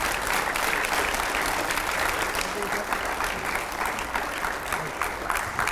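Loud, dense applause from a large audience welcoming Nitin Gadkari, Nagpur MP and road transport and highways minister, steady throughout without letting up.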